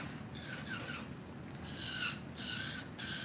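An electric nail file running at 4,000 RPM is drawn along a fingernail's cuticle, giving soft, close rasping strokes in short bursts separated by brief pauses, with no talk.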